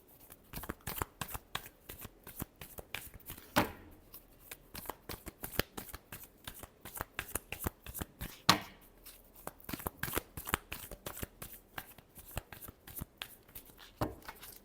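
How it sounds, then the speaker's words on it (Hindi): Playing cards, likely tarot cards during a reading, are shuffled by hand in a quiet room, with quick irregular riffling bursts and soft flicks repeating throughout, close and fairly faint, with no voices. "last shuffle"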